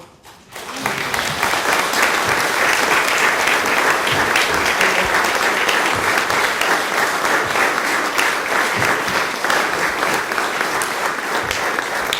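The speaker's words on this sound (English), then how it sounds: "All this applause really should be shared with Warren." Sustained applause from an audience at a book launch for a history of the Menai Suspension Bridge, rising quickly to a steady, dense roar of many hands clapping for about eleven seconds.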